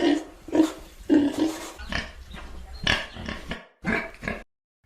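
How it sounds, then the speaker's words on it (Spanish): A pig grunts and oinks repeatedly in a rough, snorting series, loud and close, with no talk over it. "el chancho"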